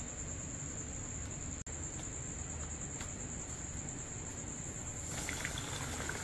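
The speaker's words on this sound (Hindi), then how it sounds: "देखिए ये मछली पानी में जो है, पानी में नहीं तेल में डुबकी लगा रही।" A whole fish fries in hot oil, giving a steady, even sizzle that runs without a break and stays fairly quiet, with a single brief dropout.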